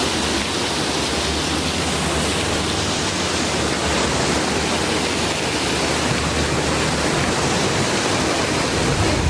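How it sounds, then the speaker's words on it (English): Water fountains at Kauffman Stadium pour in a dense, loud, unbroken rush of splashing water that fills the whole scene without pause. "if you can hear me, over these fountains"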